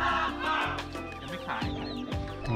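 Chickens cluck in a coop, close and fairly loud, with overlapping calls and brief squawks throughout.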